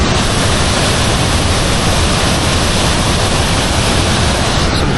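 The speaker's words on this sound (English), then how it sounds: "Some pretty aggressive waterfall." A powerful waterfall at Milford Sound, New Zealand, pours down as a loud, constant roaring rush of water that stays unchanged throughout, with no voices.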